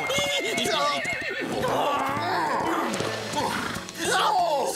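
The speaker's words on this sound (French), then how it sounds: "c'est le joli dada du gentil sergent, hein? Comme il est mignon." A horse from a Zorro adventure series whinnies and neighs loudly and up close, with hoof clip-clop and voices mixed in, the calls rising and falling over several seconds.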